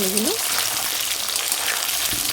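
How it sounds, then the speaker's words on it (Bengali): Cut potatoes frying and being turned in oil, a loud, steady crackling sizzle close by with a brief voice-like tone at the start. "আলু একটু ভেজে নেবো, নাড়াচাড়া করে নেবো"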